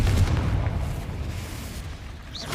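Confringo spell explosion in Hogwarts Legacy: a heavy, rumbling boom with a deep low-end roar that fades gradually over a couple of seconds, loud and alone without talk.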